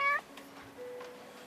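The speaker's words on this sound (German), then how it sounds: "Wo immer man hinguckt, hier sind überall Katzen." A cat in a cat café gives a short, high, clear meow up close, followed by soft, quieter room sounds.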